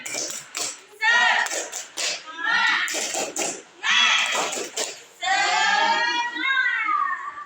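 Students in a classroom repeat the tepuk semangat routine, short rhythmic claps punctuating loud group chanting, close and energetic, with voices dominating between the claps.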